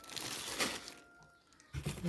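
Large plastic bag of lily bulbs handled up close, giving bursts of crinkling and rustling with a quieter pause in the middle before the crackle resumes loudly.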